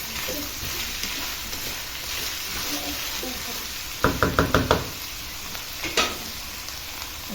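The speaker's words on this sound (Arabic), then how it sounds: "ونشوح بقى" Garlic sautés in a hot pan with a steady sizzle, broken by a quick series of sharp knocks of a utensil against the pan.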